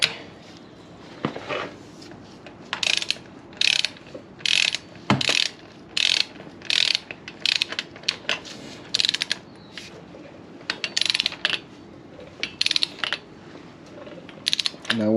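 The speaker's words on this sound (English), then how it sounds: "when it gets to where it's at spec, it'll click 2 times and let you know." A torque wrench ratchets while tightening a 39mm motorcycle fork front wheel fastener, giving bursts of loud, close metallic clicking in quick repeated runs across the whole span.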